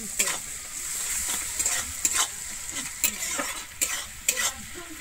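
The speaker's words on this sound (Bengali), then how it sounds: "আমি পেঁয়াজটা কিন্তু এখানে খুব বেশি লাল করে ভাজবো না, মোটামুটি হালকা লাল হলেই আমি কিন্তু ভেজে নেব" Chopped onion with a pinch of sugar fries in a pan, a continuous close sizzle punctuated by regular scraping stirs of a spatula against the metal.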